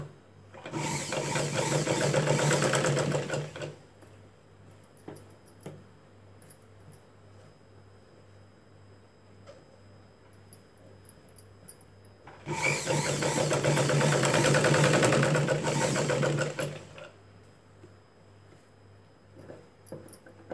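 A sewing machine stitching a tuck blouse gives two loud, steady whirring runs of about three and five seconds, each separated by a quiet pause with faint handling sounds.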